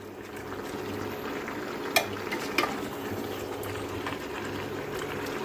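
Pork frying in a pan is stirred, giving a steady low sizzle and bubbling with a couple of brief clinks from the utensil against the pan.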